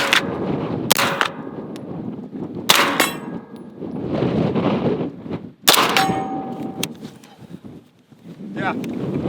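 Loud, sharp gunshots crack in quick bursts on an outdoor range, followed by ringing clangs of rounds striking steel targets, with wind noise and people talking between shots.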